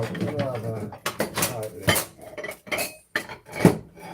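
Dishes, pots and cutlery from a pile of washing-up clatter and clink up close as someone rummages through them, in bursts of knocks and scrapes with brief pauses and a voice occasionally speaking.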